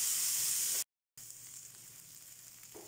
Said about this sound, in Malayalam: സവാളയുടെ നിറം മാറുന്നിടം വരെ നന്നായിട്ട് വഴറ്റിയെടുക്കാം